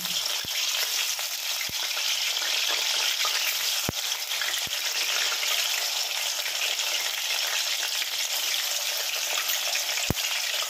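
Pieces of paneer frying in hot oil, a dense, steady sizzle close up, broken by several sharp clicks of utensils against the pan, with no talking.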